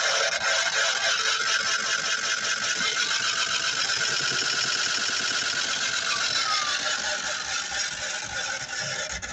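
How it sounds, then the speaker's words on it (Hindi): On an electric-converted Tata Nano, a faulty drum makes a strange, continuous mechanical whirring with a fast rhythmic chatter, close and fairly loud, steady for the whole stretch with no speech. "इसके ड्रम में से एक अजीब सी आवाज़ आ रही है।"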